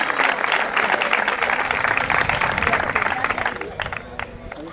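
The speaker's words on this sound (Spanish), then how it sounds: "quiero que le demos un fuerte aplauso para ellos" Crowd at a triathlon awards ceremony applauding, dense steady clapping that holds fairly loud for several seconds, then thins slightly toward the end, with murmuring voices underneath.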